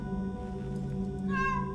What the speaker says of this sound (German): Ja, ist eine Katze.